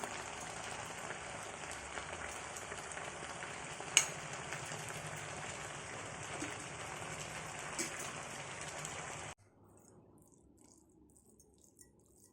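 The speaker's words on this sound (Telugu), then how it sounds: "ఈ వంకాయ ముక్కలని బాగా మెత్తపడే వరకు అలాగే ఫ్రై చేసుకోండి." Brinjal pieces frying in a pan, a steady close sizzle with light crackling and occasional stirring clinks for about nine seconds before the sizzle cuts off to near silence.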